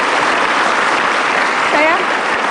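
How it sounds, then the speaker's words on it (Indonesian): Studio audience applause on a live Indonesian television talk show, steady dense clapping throughout, loud and close, with a brief voice cutting through near the end. "Kita kasih tepuk tangan untuk Aibtu Dodi."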